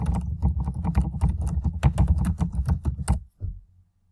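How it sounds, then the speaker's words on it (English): Rapid, steady keystrokes on a computer keyboard while an essay is set up in Word, with continuous close clicking that stops abruptly after about three seconds. "and you'll continue typing."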